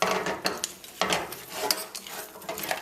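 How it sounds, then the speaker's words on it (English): A spoon scrapes and knocks around a pot of crab curry with coconut milk in rhythmic strokes, giving repeated close clinks and wet sloshing with a faint sizzle beneath. "Give everything a stir."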